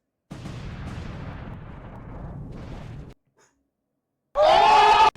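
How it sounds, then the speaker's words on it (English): A modded video game explosion rumbles in a long, muffled low boom that fades out, followed after a pause by a sharp, loud burst with a tonal ring. "Hey, that's the same explosion that I use. It's the yeet explosion."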